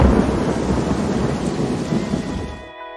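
Thunderstorm with heavy rain in the film Cast Away, a dense, steady roar of downpour with deep rumbling thunder running throughout, loud and close, before fading abruptly near the end.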